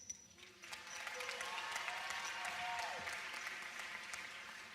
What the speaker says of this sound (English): all 215 of us give the audience a cheer